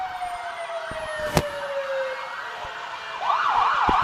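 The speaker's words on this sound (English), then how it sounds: "our Union County EMS ambulance" A Union County EMS ambulance in a Christmas parade in Jonesville, South Carolina, sounds its siren in a descending wail with a sharp horn-like blast, then a rising warble returns over low crowd and street noise.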